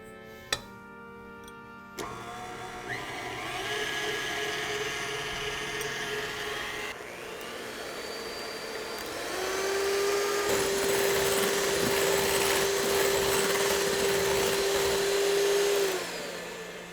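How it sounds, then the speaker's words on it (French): Electric hand mixer whipping egg whites to stiff peaks in a home kitchen for a Christmas cake, running steadily close by with a continuous whine that rises in pitch partway through. "vais en même temps monter mes blancs d'œufs en neige avec mon batteur à main"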